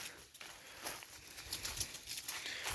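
A heavy draft mare nearby makes faint sounds, with soft, irregular hoof clops and shuffling outdoors and no voices.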